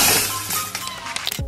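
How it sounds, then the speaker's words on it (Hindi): A dog bursts through a glass window, producing a loud, close shattering crash followed by a quick scatter of falling glass fragments that fades within a second and a half. "कुत्ते ने बाहर से दूसरे जानवर को आते देखा वो तुरंत खिड़की तोड़कर उसे भगाने पहुंच गया"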